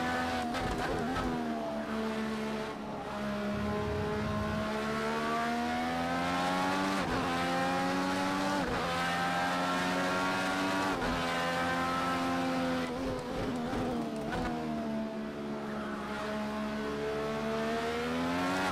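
Race car engine in Project CARS 2 holding a steady, rising and falling drone with gear-shift dips as the car oversteers and slides, loud and continuous with no talk.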